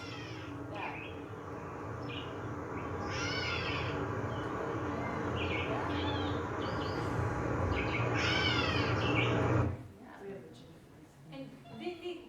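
Mewing, cat-like gray catbird calls repeat over a steady hum of background noise, with squeaky chirps scattered throughout before the hum cuts out.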